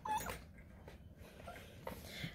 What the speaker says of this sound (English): Release the hound doggies